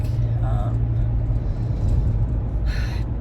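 Steady low road rumble fills a moving car interior throughout, with faint brief higher tones near the start and end over the continuous drone.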